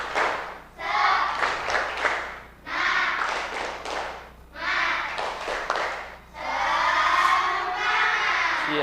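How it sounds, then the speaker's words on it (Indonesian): Schoolchildren perform a rhythmic 'tepuk semangat' spirit clap in a classroom, giving loud patterned bursts of claps separated by short pauses. Young voices shout and chant along, strongest in the final burst. "Setelah ini kita akan melakukan tepuk semangat dulu ya, biar semangat ya."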